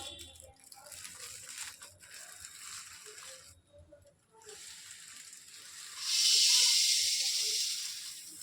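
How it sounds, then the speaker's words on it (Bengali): Washed sesame seeds dry roasting in a pan over low heat, giving a soft rustling hiss that swells into a louder, steady sizzle toward the end. "তারপরে এই তিলগুলো একটু ড্রাই রোস্ট করে নিতে হবে।"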